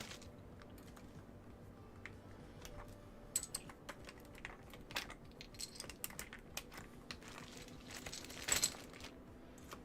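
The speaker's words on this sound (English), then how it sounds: "these are double shot PBT keycap. Not especially thick. Which is going to lend somewhat to that sound." Typing on an Aula Hero84HE keyboard fitted with thin double-shot PBT keycaps, a quiet, irregular run of soft key clacks at close range, with a few sharper, louder strokes standing out near the end.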